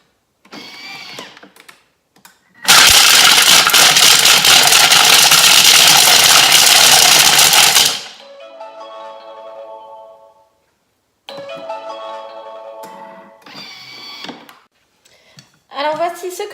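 A Thermomix runs at speed 5 to mix banana-chocolate muffin batter, a loud, steady five-second whir that starts and stops abruptly, with someone talking just before and after.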